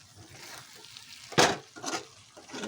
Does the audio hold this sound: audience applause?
no